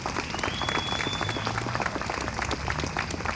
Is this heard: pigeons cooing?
no